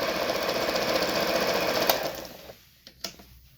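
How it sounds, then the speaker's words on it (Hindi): A Janome 6000 Memory Craft sewing machine runs a simple straight stitch at fast speed with a steady close whir, then stops abruptly, leaving a couple of faint clicks. "ये सिंपल सिलाई में चेक करा देता हूँ।"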